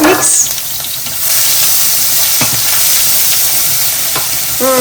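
Asafoetida and ginger fry in hot oil in a pan, a loud close sizzle and hiss with scraping stirring strokes throughout, and brief voice sounds.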